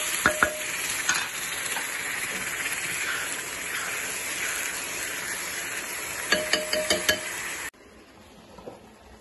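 Crushed coconut paste sizzles in a frying pan as a spatula stirs it, with clustered metallic scrapes and knocks against the pan over a steady fry before the sound drops away sharply near the end.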